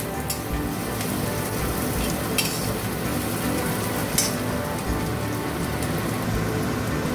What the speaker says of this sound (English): So we need to fry it very well, and we stir till the onions turns its color.